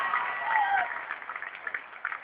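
Crowd applause at an Aam Aadmi Party political rally in Delhi, a band-limited, somewhat distant clapping that starts fuller and thins into scattered bursts, with a murmur of voices underneath.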